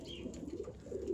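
Siyezen pigeons coo softly in a short, quiet burst of low, rolling calls, with no other sound standing out.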